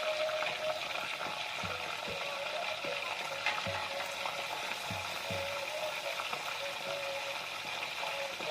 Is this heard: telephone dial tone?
no